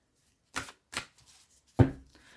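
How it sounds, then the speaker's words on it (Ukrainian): A few crisp card snaps and slides as a tarot card is drawn from the deck, three separate handling sounds with quiet gaps between them, close by. "Тепер ми зараз з вами витягнемо одну карту."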